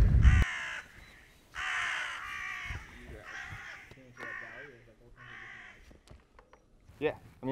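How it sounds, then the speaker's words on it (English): Several loud crow caws repeat in a series over about seven seconds, with voices and outdoor noise underneath, on a mountain biking trail in Utah. "And you cut to the crow sound."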